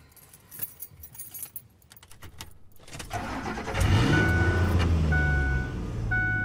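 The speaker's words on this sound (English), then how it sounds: "Next, we turn on the engine." Keys jingle and click in a car's ignition, then the engine cranks and catches, settling into a steady idle hum with a few faint electronic chimes. The sound is close and clear, with no talking.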